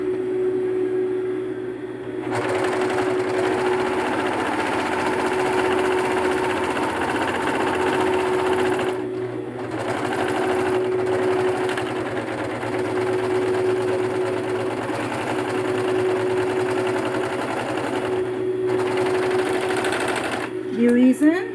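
A sewing machine stitches in black thread along a pocket of a pleated school skirt, a steady close mechanical whir running in long stretches broken by brief pauses, with a voice talking over it.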